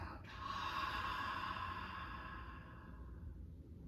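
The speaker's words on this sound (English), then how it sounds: "and a full breath out." A deep, slow exhale during yoga breathing practice, a long airy breath out, close and soft, fading gradually with no talking.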